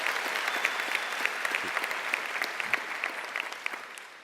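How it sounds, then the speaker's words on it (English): A graduating high school class applauding themselves, a room full of hands clapping with distinct individual claps popping out of the dense steady patter, at moderate level. "I want you all to give yourselves a round of applause"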